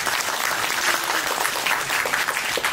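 A crowd at a book concert event claps loudly to welcome the next speaker, a thick, continuous burst of applause close by throughout.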